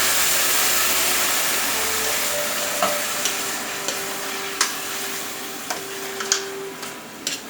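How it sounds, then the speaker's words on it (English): Canned diced tomatoes tipped into a hot shakshuka pan, giving a steady sizzle and hiss with scattered clinks and scrapes of a spoon stirring against the pan, loud and close. "And now we add 2 cans of diced tomatoes."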